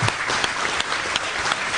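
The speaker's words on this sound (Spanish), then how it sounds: "otro aplauso para ti" An audience at a political event in a hall claps steadily, a dense continuous wash of applause throughout.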